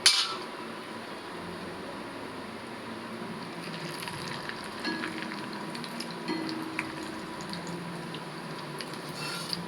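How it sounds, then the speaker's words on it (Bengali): Potatoes cut for french fries fry gently in oil over low heat, a steady soft crackling sizzle with faint scattered pops, continuous and even throughout with no talking. "এটা হালকা আঁচে ভাজতে হবে, না হলে আলুগুলো পুড়ে যাওয়ার চান্স থাকবে।"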